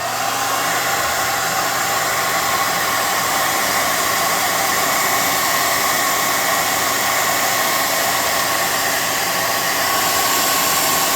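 A hair dryer roars continuously and loudly at close range throughout, drying a handmade puzzle cube prop, with no pause or voices.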